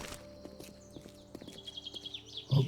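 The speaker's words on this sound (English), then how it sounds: "Thought I could hear footsteps off to my side." Footsteps in the zombie survival game 7 Days to Die: quiet, evenly spaced hollow clops building into a faster run, set against a low droning hum of ambient tones, with a thump at the end.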